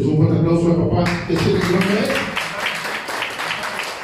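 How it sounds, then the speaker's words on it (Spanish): Applause from a crowd at a birthday party show begins about a second in and continues steadily, a dense patter of clapping that follows a few seconds of voices. "Un fuerte aplauso al papá."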